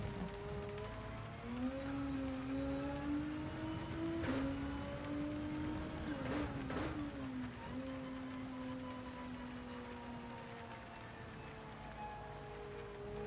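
A race car engine laps the Spa circuit in a racing video game. It drones steadily and rises in pitch under acceleration, with brief sharp bursts midway, and no one speaks.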